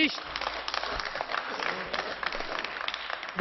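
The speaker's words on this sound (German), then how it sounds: "die klatschen da lebhaft beifall" Members of a parliament applaud briskly, a broad crowd clapping heard from a distance with some murmur, while a man's speech continues over it.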